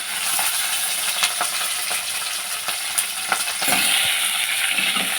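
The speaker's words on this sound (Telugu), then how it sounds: "ఎల్లిపాయలు వేసుకుంటున్నాము, పచ్చిమిర్చి వేసుకుంటున్నాము, ఫ్రై వేసుకుంటున్నాం" Garlic and green chillies fry in a pan with a steady close sizzle and occasional sharp crackles, alongside a few light stirring scrapes, and no voices.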